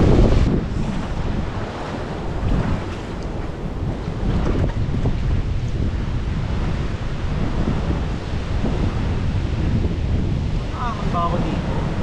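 Sea waves wash against the sharp rocky shore at Green Lagoon in Catanduanes, a loud, constant roar of surf mixed with heavy wind buffeting close by, with faint voices at moments.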